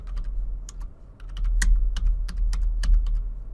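Fast, uneven typing on a computer keyboard, with sharp clicks in quick bursts close by, steady throughout over a low background hum.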